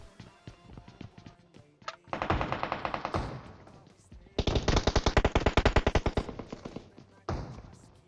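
Rapid bursts of automatic gunfire in PUBG Mobile crackle in several long volleys, loud and close, separated by short pauses with quieter clicks.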